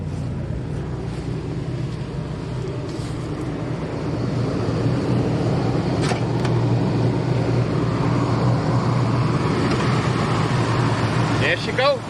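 A lawn care truck's engine idles steadily with a low, rumbling hum, a few faint clicks and rustles over it, and the engine note swells briefly near the end.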